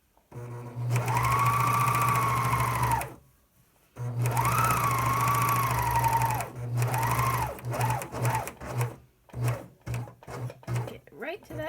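Sewing machine stitching fabric while sewing a child's romper, running in long steady bursts with pauses for lifting and turning the fabric, then shorter stop-start runs toward the end; close and loud with no talk.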